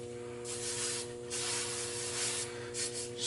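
Silicone spray misted lightly onto the components of a Roadmaster Sterling tow bar during a rebuild, heard as several close, soft hissing bursts separated by short pauses.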